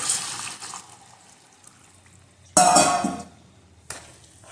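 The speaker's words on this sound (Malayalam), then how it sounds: "ഇത് വേവാൻ ആവശ്യത്തിനുള്ള വെള്ളം ചേർക്കുന്നു." Water is poured into a pot of raw mango curry in short bursts, a loud splashing gush in the middle and a briefer one near the end, between quieter stretches.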